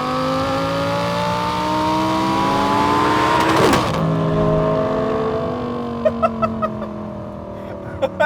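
A modified Lamborghini Gallardo LP560-4 V10 revs hard, its pitch sweeping up and down in a loud, close engine note, then settles to a steadier drone broken by a few short crackling pops near the end.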